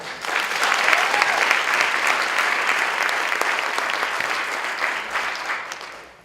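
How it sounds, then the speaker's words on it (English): An audience at a regional event gives a sustained round of applause, dense steady clapping that holds for several seconds before tapering off. "I think we ought a round of applause to those who did that work"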